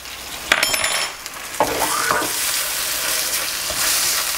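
Tomato sauce with capers sizzles loudly in a pan, a dense continuous frying hiss close up, punctuated by a few metallic clinks of a utensil against the pan.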